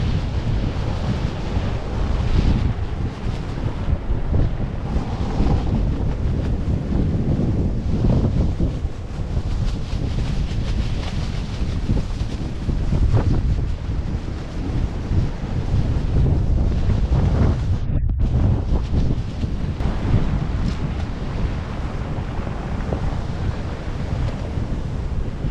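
Strong wind roars across the microphone with heavy surf crashing continuously during a tropical storm on the Jamaican coast, a loud, dense, unbroken wash of gusts and breaking waves with no speech.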